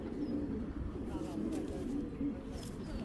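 Girbaz pigeons kept for tournament flying coo in low, rolling pulses close by, steady under a continuous noisy background, while someone talks over them.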